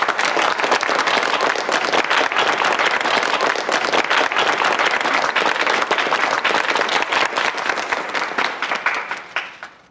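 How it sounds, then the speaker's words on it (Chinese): A crowd at a press event applauds to welcome a speaker: dense, sustained clapping from many hands fills the room at close range, holding steady before tapering off at the very end. "鼓掌欢迎！"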